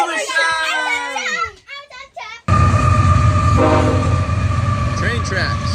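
A train rolls along railway tracks beside a canal lock, its broad rumble steady and loud for several seconds after a sudden onset, with a horn-like tone near the middle. A voice is heard near the start.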